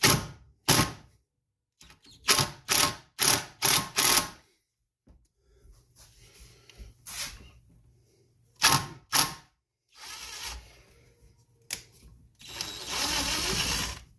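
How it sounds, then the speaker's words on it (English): A 1/4 inch impact driver backs screws out of a 1976 Wizard tiller with a Briggs and Stratton 5 hp engine, giving several loud, rapid hammering bursts in separate runs, close by, with quiet handling noise in between. "we're going to have to use this impact. It's just a 1/4 inch impact."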